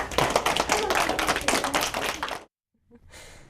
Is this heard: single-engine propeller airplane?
no